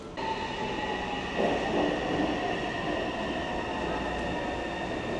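A Taipei metro train runs through a station with a steady loud rumble and tonal motor whine, brief wheel squeal and clatter rising midway, heard up close with no talking.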